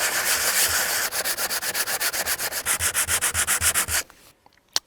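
Rhythmic back-and-forth sanding on a surfboard ding repair, with a dozen-plus quick rasping strokes close up that then stop, leaving a few faint taps.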